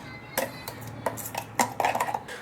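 A kadhai cooking pan is handled on a kitchen counter, giving several sharp metallic clanks and knocks spaced irregularly, close and distinct against a quiet background.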